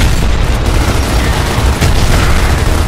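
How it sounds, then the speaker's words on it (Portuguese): A grenade blast in Gears of War multiplayer, a loud, dense roaring burst of noise that fills the whole clip, near and overwhelming, with no speech. "Lançando granada!"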